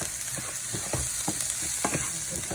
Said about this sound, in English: I'm going to dump those 2 cups of yellow rice and allow that to cook. And stir that together.